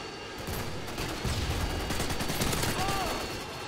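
AC-130 gunship fire raining down in Modern Warfare 2 on the Scrapyard map: a dense, steady roar of distant heavy shots and rumbling impacts that blur into continuous battle noise.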